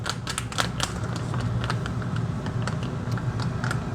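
Rapid, uneven clicking of keys on a computer keyboard, close and steady for about four seconds over a low background hum.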